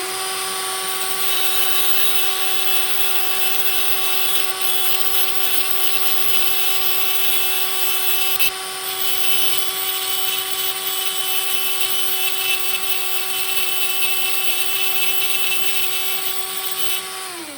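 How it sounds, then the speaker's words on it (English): A cable-driven Dremel rotary tool, run by a foot pedal, grinds corrosion off Speak & Spell battery contacts, giving a steady high-pitched whine that holds on continuously with a brief dip midway. "I've got a kind of a cable-driven Dremel that I have a foot pedal actuator for, and just basically grind off the corrosion."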